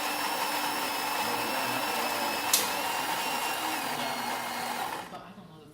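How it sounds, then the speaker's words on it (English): The grinder of a Saeco coffee machine grinds beans with a steady, loud motor whir that runs continuously for several seconds, then stops abruptly near the end. "So we adjusted the grinder, and it is now pulling beans."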